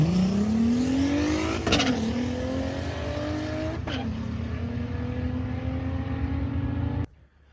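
A drag race car makes a no-prep pass, its engine roaring loud and close as it climbs steadily through gear changes before the sound cuts off sharply at the end.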